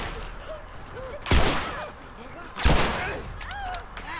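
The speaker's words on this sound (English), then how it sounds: "So shoot both of them" Two loud gunshots about a second apart in the video game The Last of Us, over a low game backdrop with voices talking.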